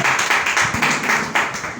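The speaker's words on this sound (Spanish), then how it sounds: "Bríndele un fuerte aplauso al que vive." A church congregation applauds steadily, a dense wash of many hands clapping at once, sustained and fairly loud for a couple of seconds.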